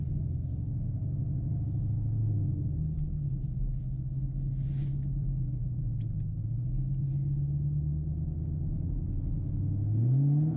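A Chevrolet Camaro engine idles steadily after a remote start, a low continuous rumble with slight pitch drifts and a small rise near the end, heard close and alone throughout.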